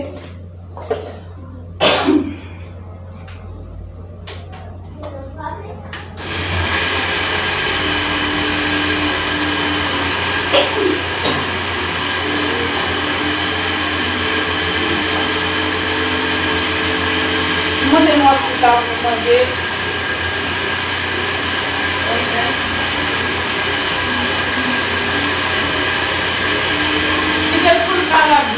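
An electric blender mixes a homemade skin cream with a loud, steady whirring drone that runs on without a break after a few handling knocks, and a voice speaks briefly over it.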